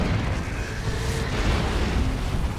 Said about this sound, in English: Orbital from nucka4ya.